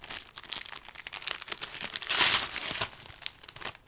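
A plastic package from an AliExpress order holding dried lotus leaves is cut open, giving close, continuous crinkling and rustling with sharper tearing bursts midway, with no voice present.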